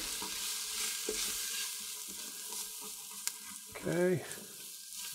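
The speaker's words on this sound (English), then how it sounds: "You can hear the sizzle quieting down, which means it's drying out" Chicken pot pie filling, thickened with cornstarch, sizzles softly inside a Ninja Foodi with occasional stirring scrapes; a brief spoken word near the end.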